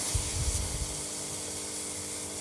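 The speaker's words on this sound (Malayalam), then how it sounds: "രണ്ട് തക്കാളി ചെറുതായി കട്ട് ചെയ്തത് ഇട്ട് കൊടുക്കുന്നുണ്ട് തക്കാളി ഒന്ന് വഴറ്റിയെടുക്കാം" Chopped tomatoes sautéing in masala in a pan for a beef curry give a steady, moderately loud sizzle with crackling bursts, continuous throughout with no talking.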